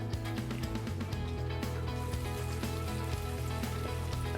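Squid pieces sizzling and crackling in hot oil in a pan, a steady dense frying hiss with scattered pops, close and fairly loud throughout, no voices.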